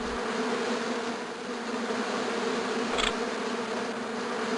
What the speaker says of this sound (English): Those are meaner than any city wasps I've seen.